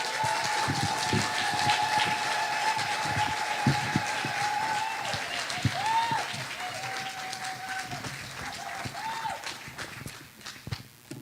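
Dense applause from a gathered crowd welcoming Kenya's deputy president at an event in Baltimore, sustained clapping that rises and then tapers near the end, with a voice talking over it.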